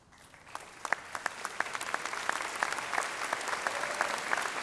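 A commencement audience applauds honors graduates, the clapping building from a quiet start into a full, even wave with crisp distinct claps near the front.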